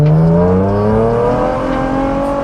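A Toyota MR-S fitted with a 3.5 L 2GR V6 and a Scirocco DSG gearbox accelerates hard, its engine note climbing steadily in pitch, loud and close with no talk.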